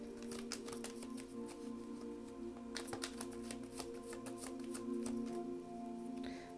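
Tarot cards are shuffled near the mic in a quiet room, with dense papery riffles and flicks running through the whole stretch in uneven bursts.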